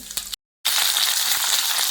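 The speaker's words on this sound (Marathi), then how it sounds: "हे तेल मी याच्यात काढून घेते आणि याच्यामध्येच आपण फोडणी देऊया. मध्ये मी जिरं टाकले." Cumin seeds sizzle and crackle in hot oil for tempering, a bright continuous fry that cuts out briefly and then resumes strongly, close and steady with no talking.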